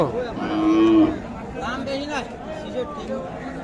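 A cow moos loudly and close by at Ambari village cattle market, where cows with calves are sold, followed by people talking and crowd chatter in the background.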